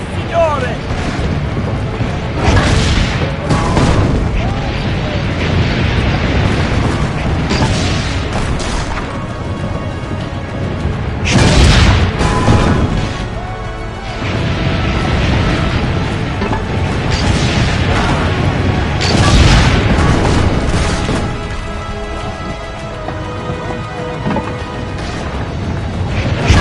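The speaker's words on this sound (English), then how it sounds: "Load the cannon. Aim for the cannon" Cannon blasts ring out in Assassin's Creed Brotherhood, several heavy booms spaced seconds apart amid a noisy battle scene with voices shouting over the din.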